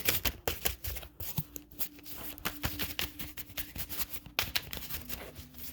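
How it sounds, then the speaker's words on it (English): A deck of tarot cards is shuffled by hand at close range, a quiet run of riffling flutters and soft taps repeating in uneven bursts, with no talking. "Now I'm doing a real shuffle"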